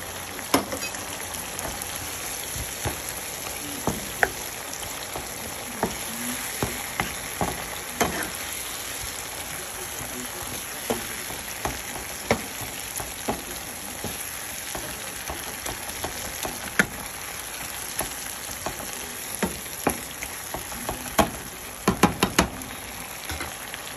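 Bacon fries in a pan, a continuous close crackling sizzle with frequent sharp pops and spits, growing busier near the end.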